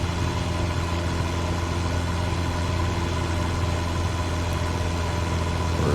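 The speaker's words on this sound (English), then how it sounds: "I was wondering why that engine is so loud." Steady, loud drone of a Cessna 172 piston engine heard from inside the cabin with the door open or removed in MSFS 2024, a constant unbroken hum with no talking.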